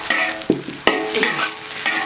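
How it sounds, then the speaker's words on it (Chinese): Stir-frying in a wok over a makeshift stove propped on stones: loud sizzling oil with repeated scraping and clattering spatula strokes in quick, uneven rhythm, close up with no voices. "这才是炒菜嘛。"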